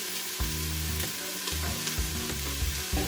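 Onions and ginger frying in a pan, a steady loud sizzle with intermittent scraping and stirring knocks throughout, close up and without any talk.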